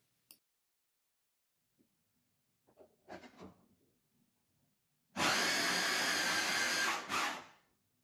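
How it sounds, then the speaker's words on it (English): A food processor grinds malai kofta ingredients for a vegetarian Indian curry, a loud, steady whirring burst of about two and a half seconds after a few faint clicks and knocks, then quickly winding down. "put everything except the nuts and raisins into a food processor. Grind to pulverize together."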